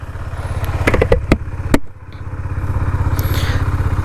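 A Husqvarna motorcycle engine fires up with a few sharp crackling bursts and a brief rev, dips for a moment, then settles into a loud, close, rhythmic idle thump.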